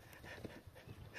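A dog pants and snuffles close by in short bursts over a steady background, with no talking.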